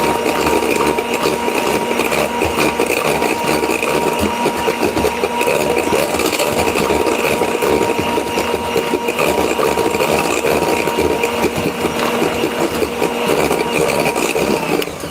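An electric mixer whisks a dessert mixture for a fine-dining apple pie until it turns foamy, a loud, continuous close motor whir with slight rattling that holds steady throughout, with no voices.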